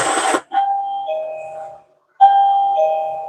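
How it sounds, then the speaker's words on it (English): A doorbell chimes clearly and close, a two-note ding-dong that rings out and decays, then sounds again after a short pause. "You know that doorbell?"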